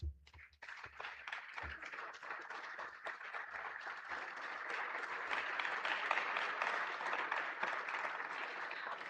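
Sustained audience applause at an Indian Railways award ceremony where shields are presented, a dense steady clapping that stays loud and full for about nine seconds with no talk over it.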